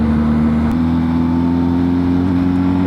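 A BMW R1250GS motorcycle accelerating, its engine a loud, close, steady droning note that climbs slightly in pitch over a few seconds, with no voices.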